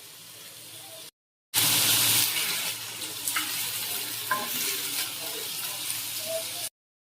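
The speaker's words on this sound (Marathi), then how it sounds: "असं आपण कांदा तव्यावरती टाकला आहे" Onion fries on a griddle pan for egg curry, giving a loud, hissing sizzle with faint stirring scrapes that starts after a short silence and runs steadily to a sudden stop.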